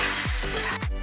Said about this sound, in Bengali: এবার মশলাটা ভালো করে ভেজে নিতে হবে সবজির সাথে।